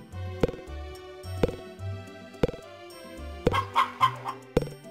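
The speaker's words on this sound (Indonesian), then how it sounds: "Kita rawat untuk ayam-ayam saya." Chickens cluck in the farming game Harvest Moon Back To Nature, with regular clucks about once a second over a steady game music loop. Near the end a denser burst of higher calls comes through.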